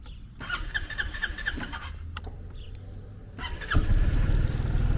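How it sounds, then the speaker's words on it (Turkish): A 2023 Sym Joymax Z+ scooter engine cranks and starts, settling into a steady idle rumble that grows louder near the end, with a faint squeal earlier. "Motoru çalıştıracağım. Bakın şimdi."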